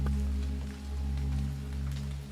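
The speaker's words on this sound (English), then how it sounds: "the sound of the rain is growing faint" Rain falls steadily with a soft, even patter and scattered drops, over a low constant hum that gently swells and fades.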